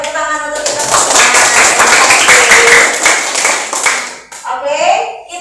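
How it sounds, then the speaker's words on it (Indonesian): Schoolchildren in an Indonesian fifth-grade classroom break into dense, continuous applause lasting several seconds, close and lively, fading out as a teacher starts talking. "Oke, tepuk tangan untuk kita semua."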